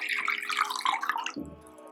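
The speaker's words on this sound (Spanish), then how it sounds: "Ahora en una taza vamos a agregar 275 mililitros de agua filtrada." Filtered water pours into a cup for a vegan peanut mozzarella recipe, a steady close splashing stream for over a second that gives way to a lower, fuller gurgle as the cup fills.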